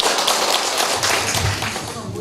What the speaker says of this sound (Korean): 우리 박수 치고 마치겠습니다